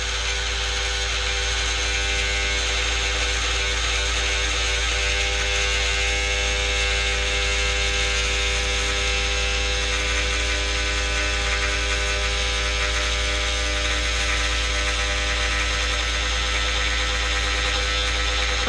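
An MPCNC machine fitted with a needle cutter cuts foam with a steady, unbroken electric buzz and hum, constant in level from start to finish.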